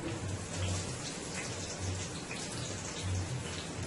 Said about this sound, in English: into my pan there, I am going to add a little bit of my onions